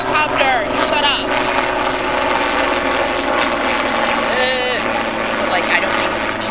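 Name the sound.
helicopter flying overhead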